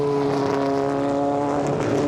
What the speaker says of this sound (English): the scream of the BMW V12s and the McLaren when they're really wound up